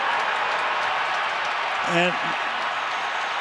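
A stadium crowd at an NFL football game roars steadily as a broad wall of noise, with a commentator's voice briefly rising over it.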